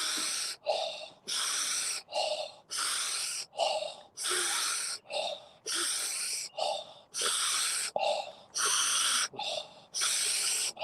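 Deep, forceful belly breaths during a conscious connected breathing session: loud, rhythmic cycles of rushing inhale and exhale, about ten in a row with no pauses, close to the microphone.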